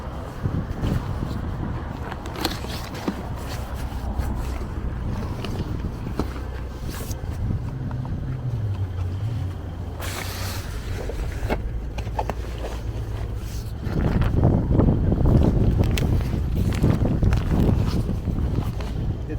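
Steady low rumbling wind buffets the microphone throughout, growing louder and gustier near the end, with faint indistinct sounds beneath.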